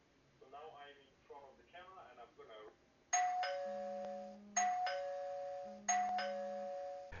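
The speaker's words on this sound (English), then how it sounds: "once I ring the doorbell" An ieGeek 2K doorbell camera's two-tone electronic chime rings three times in a row, loud and close, following a few seconds of quiet talking.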